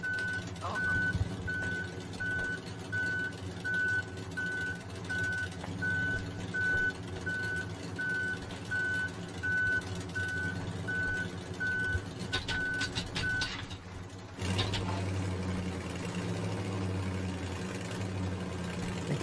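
Truck reversing beeps repeat steadily at an even pace over a low idling engine while maneuvering in Human Fall Flat, with voices talking over it; the beeping stops near the end as the engine note shifts.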